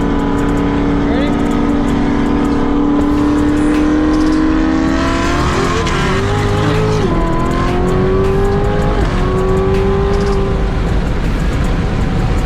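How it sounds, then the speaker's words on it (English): A car with an LT4 engine, running flex fuel with a stage 1 kit, launches and accelerates hard. Its engine roars loud and close, climbing in pitch through several gear changes without a break. "This car, the way it launches is insane,"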